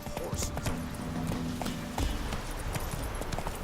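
Roach, the horse in The Witcher 3: Wild Hunt, gallops in a steady rhythm of quick hoof clip-clops, close and continuous, while game sound and a voice can be heard underneath.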